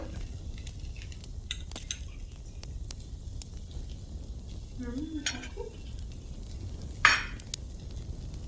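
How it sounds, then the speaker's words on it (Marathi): Cheese corn with salt and chilli powder is stirred in a pan over a soft, steady sizzle, with occasional scrapes of a spoon and one sharper metallic clink near the end. "तर ह्याला हलवून घेऊया. मिक्स करूया चांगलं."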